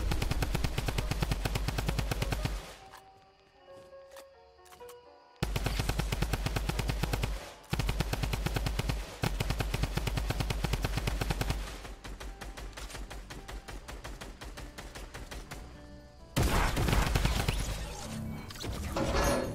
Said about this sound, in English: the best one is likely holding the W key and killing someone with a drum gun